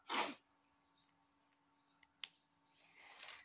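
A single sharp sneeze or snort bursts out close and loud at the start, followed by faint clicks and soft sniffing breaths while Lego bricks are assembled indoors.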